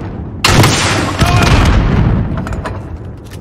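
Grenade explosion in the shooter Call of Duty: Modern Warfare multiplayer: a sharp, loud blast followed by a second boom and a long rumbling, crackling decay.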